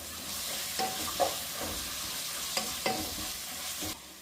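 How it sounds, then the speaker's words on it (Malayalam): Green chili and curry leaves are sautéed in a pan on a low flame, a steady close sizzle broken by several spatula scrapes and stirring knocks, with no one speaking. "കുറച്ച് കറിവേപ്പില കൂടി ചേർത്തിട്ട് നന്നായിട്ടൊന്ന് വഴറ്റിയെടുക്കാം"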